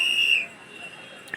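A guard's whistle at a tower site blows one sustained, shrill blast that fades after about half a second, then a brief faint chirp follows, with distant crowd murmur behind.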